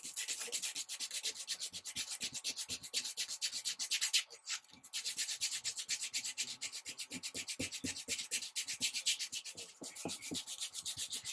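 Hand sanding of carved cherry wood with 220 grit sandpaper, taking filler down to the wood surface: quiet, steady, rhythmic rasping strokes repeated back and forth for the whole stretch, with no voices.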